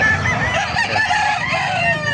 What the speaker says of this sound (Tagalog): Papakita ko sa inyo mga manok dito sa Kalumpit.